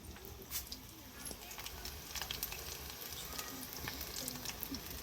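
Appalam (papads) frying in hot oil, a steady crackling sizzle with sharp pops throughout, while people talk nearby.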